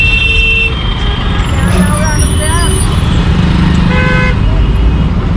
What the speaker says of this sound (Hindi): ट्रैफिक बहुत है यार।